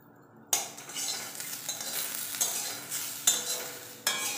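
Spiced Maggi noodles being stirred and lightly fried in a pan, with soft sizzling and several sharp scraping strokes of a utensil against the pan, close and fairly quiet.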